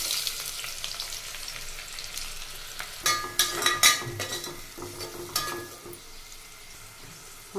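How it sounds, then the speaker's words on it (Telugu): Three chopped onions fry with a tablespoon of salt over a medium flame for chicken biryani, giving a close, steady sizzle. A burst of louder crackling and scraping stir strokes comes in the middle, then settles back to an even fry. "ఇప్పుడు ఆనియన్స్ బాగా ఫ్రై అయ్యే వరకు ఫ్రై చేసుకున్నాం మీడియం ఫ్లేమ్ మీద"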